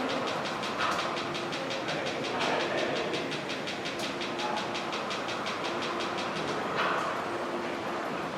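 A small train rolls steadily along its track, with a rapid, regular clicking of wheels over rail joints and a constant mechanical hum.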